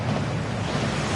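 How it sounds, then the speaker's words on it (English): In a Hogwarts Legacy Gringotts vault, a waterfall pours in a steady, dense rush that stays loud and unbroken throughout with no voices. "That waterfall washes away all enchantments."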